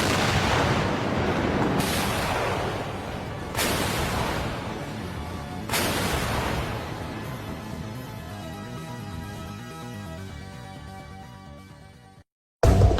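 Self-propelled artillery gun of French make fires three heavy, booming rounds about two seconds apart, each blast loud and close with a long rumbling decay and echo before a final abrupt burst.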